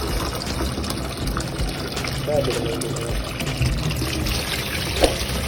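Muddy water running from a tap in Pampanga, a steady faint splashing flow with people talking over it.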